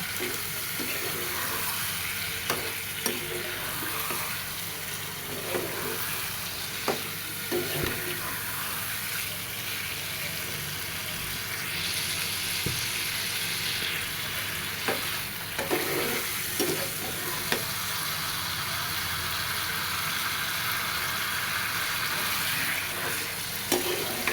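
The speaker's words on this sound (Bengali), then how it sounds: "কাটে ধুয়ে রাখা মাংসগুলো দিয়ে ভালো মতো কষায় নেব।" Washed meat pieces sizzle and fry steadily in a pan, with a spoon scraping and stirring through them in repeated strokes, close and even for the whole stretch, with no voices.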